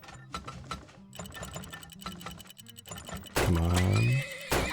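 Horses neighing loudly in the mining game Turmoil, a long whinny rising near the end over clip-clopping hooves and busy mechanical game sounds.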